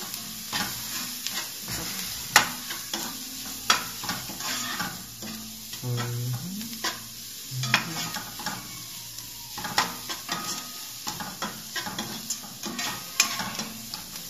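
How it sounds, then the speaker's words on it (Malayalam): Chicken being sautéed with turmeric and chili in a pan, giving a soft steady sizzle broken by frequent scrapes and taps of a stirring spoon against the pan. "എന്നിട്ട് അതൊന്ന് നല്ല സോട്ട് ചെയ്യുക."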